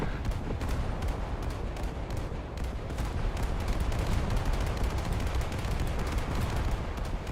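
Rapid naval gunfire from British cruisers' 4-inch guns in a video game, a dense continuous barrage of overlapping shots and booms that stays loud and steady throughout, with no voices.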